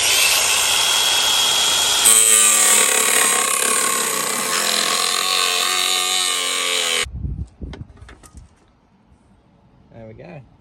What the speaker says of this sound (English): I'm just going to cut that aluminium profile.